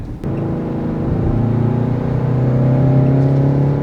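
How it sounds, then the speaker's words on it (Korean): The 2.2-litre diesel engine of a new Kia Carnival minivan revs up close by and holds a high, even drone that climbs slightly in pitch, with no talking. "엔진이 고RPM까지 치다를 때도 엔진 회전은 좀 고르게 움직이는 편이에요"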